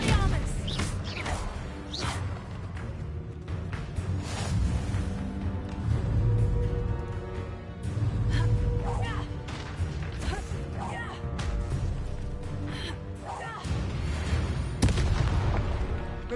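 Expelliarmus spell cast in a magic school video game, a dense, continuous wash of booming impacts and crashing magical effects with sharp hits throughout, loud and layered, with a voice calling out over it.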